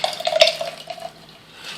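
Tomato seed pulp and liquid poured into a glass jar, giving a short splashy, trickling pour with faint glassy clinks that tapers off to a quiet drip.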